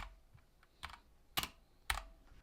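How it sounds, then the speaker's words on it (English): Someone types on a Keychron K2 mechanical keyboard with spring-loaded switches, a handful of sharp, separate key clacks, three of them louder, set close and alone in a quiet room. "On the K2, if you press too hard, you're going to end up hearing the spring in the switches"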